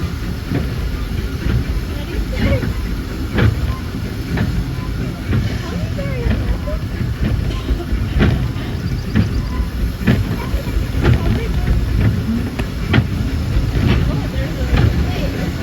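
Riding behind a steam train on the Disneyland Railroad on a cloudy day, with steady rumbling wheels and repeated clickety-clack beats along the track, loud and close throughout, while a narrator speaks over the ride.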